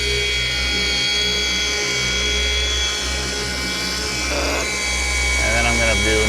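A paint polishing machine set to about 4000 to 4250 runs over a Tesla's painted panel with a steady, dense mechanical whine and low drone that holds throughout, close up, with a voice briefly over it near the end.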